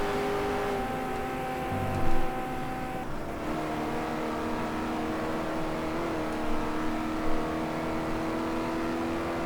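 A racing car engine in the driving game GT Legends holds a steady, sustained whine at moderate level, with a pitch that shifts slightly and a few brief louder bumps along the way.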